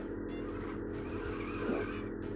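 Steady engine drone of a car being driven in the video game Splash Cars on Xbox Series S, with a brief tire squeal rising near the end, continuous and even in level with no talking.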